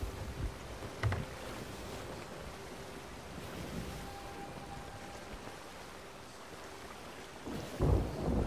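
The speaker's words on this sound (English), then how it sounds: "Storm over there." Stormy weather at sea in the pirate video game Sea of Thieves, with a steady wash of rain and rough water, dull thunder rumbles near the start and a louder thunderclap at the end.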